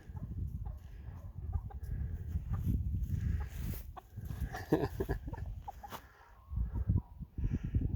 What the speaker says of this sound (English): So this is the chicken coop, chicken area.